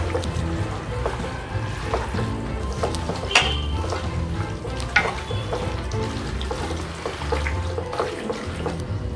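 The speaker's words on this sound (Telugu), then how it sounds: "ఇప్పుడు ఇవన్నీ వేసి బాగా కలుపుకోవాలి చికెన్కి పట్టుకునేలాగా" Chicken pieces are mixed by hand with marinade, mint and coriander for a bachelor-style chicken curry, making continuous wet squelching and sloshing up close with a few soft knocks.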